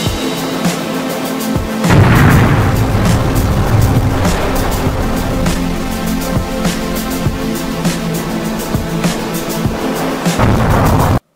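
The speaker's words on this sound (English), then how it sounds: "The explosion you are hearing is the vehicle breaking the sound barrier." A vehicle breaking the sound barrier at high speed sets off a sudden loud sonic boom, followed by a long, heavy roaring rumble that lingers for several seconds before cutting off abruptly.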